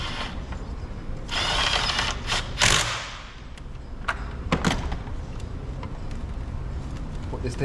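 A ratchet or power tool tightens the 10 mm battery bracket nut on a 2020 Buick Envision, with bursts of whirring and clicking around the middle and sparse mechanical clicks afterward.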